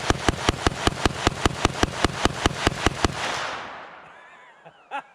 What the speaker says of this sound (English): After you shoot, then you hear the bullet hit